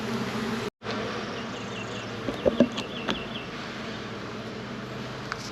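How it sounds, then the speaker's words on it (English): Honey bees buzz in a busy hive, making a faint, continuous hum close by, with a few soft knocks and a brief dropout near the start. "You can tell they're really busy in the hive."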